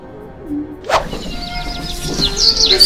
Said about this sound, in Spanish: los pajaritos cantan